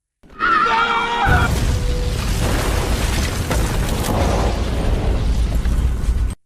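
A loud bomb blast in an action film rips out after a brief sharp burst and then rolls on as a sustained roar and rumble for several seconds. No one speaks.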